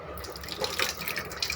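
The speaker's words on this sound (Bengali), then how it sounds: "ডালটা কিন্তু আমি কয়েকবার ডোলে ধুয়ে পরিষ্কার পানি বের করে নিয়েছি" Water splashes and drips briefly while soaked masoor lentils are washed, an irregular close trickle of small splashes with no talking.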